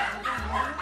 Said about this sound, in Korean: 다행히 다시 찾게 된 반려견